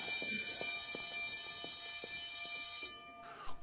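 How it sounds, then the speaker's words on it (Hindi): An electric bell rings continuously with a steady metallic buzz for about three seconds, then stops abruptly, followed by faint background noise. "स्कूल की घंटी बजने वाली है।"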